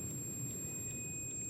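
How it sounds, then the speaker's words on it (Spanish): A steady, high electronic tone from a multimeter continuity test sounds continuously beneath a low background hum, unbroken and moderately loud. "si yo uno las dos puntas de mi multímetro, los coloco ahí, ustedes van a notar que él va a emitir un pitido"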